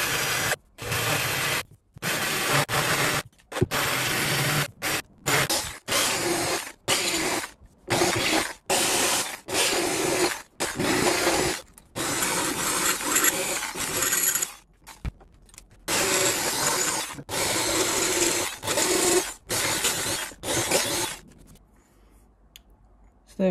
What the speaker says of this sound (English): I'm just going to get a die grinder, and I'm going to very carefully take a little bit of material out